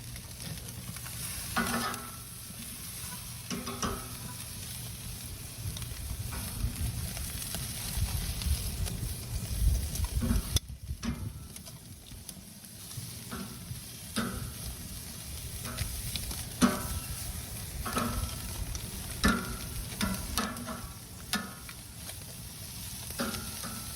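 Octopus sizzling on a hot grill, a steady crackling hiss with scattered pops and spits that swells and eases over a long stretch, close by with no voices.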